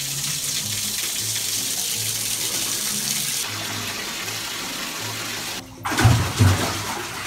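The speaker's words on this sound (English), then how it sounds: "It's time to wash the Crocs." Tap water runs steadily while Crocs are washed, a broad hissing stream heard alone, then a brief pause and a louder splashing gush near the end.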